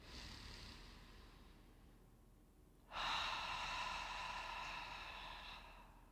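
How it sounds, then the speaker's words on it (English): A long, deep breath during a yin yoga meditation, a soft airy exhale through the mouth fading, then a sudden louder rushing breath that holds steady and slowly tapers, close and unaccompanied by speech. "exhale it out through the mouth"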